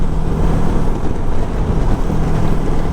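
A Kawasaki Versys 650 motorcycle cruising on an open road, with a steady engine drone blended with heavy wind rush for the whole stretch, loud and continuous without letup.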